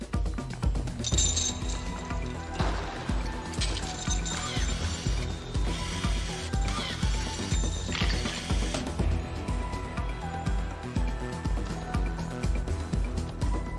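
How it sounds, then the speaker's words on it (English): Screws and chains being fastened to seal a box shut, heard as a busy run of ratcheting, clinking metal mechanism sounds layered over steady low background music throughout. "The box is then sealed tight with screws and chains."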